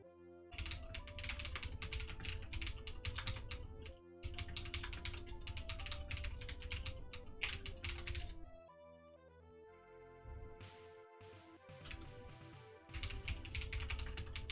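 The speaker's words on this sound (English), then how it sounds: "Why am I typing this?" Steady rapid typing on a computer keyboard, close and loud, in dense bursts of keystrokes with a few short pauses and a brief change in texture midway; no speech.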